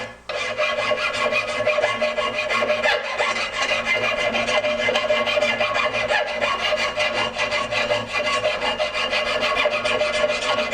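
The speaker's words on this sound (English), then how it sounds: "And the flux is pretty much just breaking off of here as I'm filing." An 8-inch Nicholson flat file rubs against a brazed bicycle frame joint, scraping off brass flux in a continuous close rasping grind of rapid strokes for about ten seconds, without talk.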